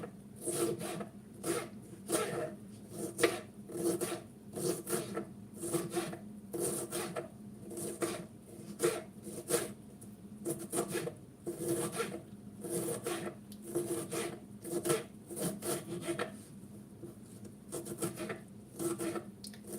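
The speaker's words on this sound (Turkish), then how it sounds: "İnce ince biberlerimi doğruyorum." Peppers are sliced thinly with a small fruit knife for an egg salad, giving a steady run of quick, crisp chopping taps against a board at close range, with no talking.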